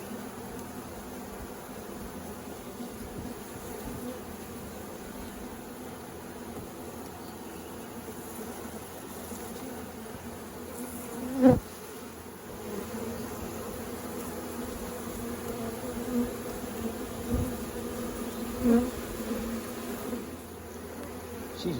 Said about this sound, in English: I'm wondering if there's a lot of bees down in here, a lot more than that other one